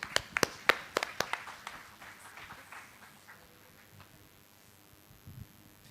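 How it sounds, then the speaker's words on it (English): A handful of audience members clapping for a speaker at a talk session, loud sharp claps at first that quickly scatter and fade into sparse taps and quiet room noise. "One more round of applause for Nidhi."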